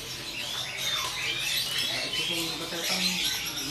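Orange-headed thrush (anis merah) calling at the Pramuka bird market in Jakarta, with bright, busy chirps and whistles over a steady crowd of other caged birds and market bustle.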